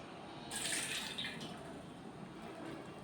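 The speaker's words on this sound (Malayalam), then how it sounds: "അതിനുള്ളിൽ ഇപ്പോൾ ഉള്ള വെള്ളം മുഴുവൻ ഇതുപോലെ നമ്മൾ കളയുക" Water squeezed and drained out of a mass by churning it by hand, a soft splashing trickle that swells for about a second and then thins to a faint drip.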